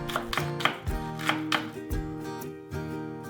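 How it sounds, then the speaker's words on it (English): A knife slices the white parts of green onions into thin rounds on a cutting board for vegetarian ramen. About eight crisp, close chops fall in an uneven rhythm over faint tonal background music. "Cut the white part into thin rounds."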